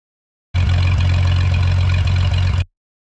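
A small airplane engine runs at Placerville Airport, a steady loud low drone with a strong hum that holds for about two seconds, then cuts off abruptly into silence.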